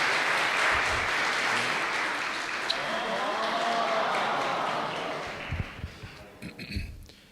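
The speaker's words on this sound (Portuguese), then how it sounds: "Mais uma salva de palmas para minha noiva," An audience applauds a newly married couple at a talk on the vocation of marriage. The clapping is a dense, steady roar that slowly fades and breaks into a few scattered claps at the end.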